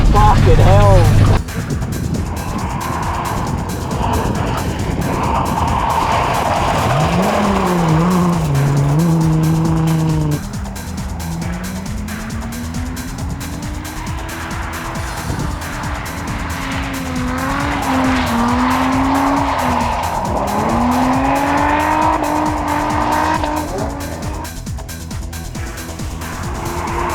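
A drifting car holds long, loud tire squeals that rise and fall in pitch as it slides, with the engine roaring underneath and people talking now and then.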